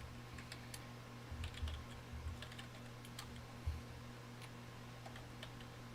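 Soft, quick keystrokes tap on a computer keyboard in irregular bursts, faint and close, over a low steady electrical hum.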